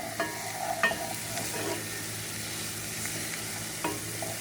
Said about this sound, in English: our onions are sauteing fairly nicely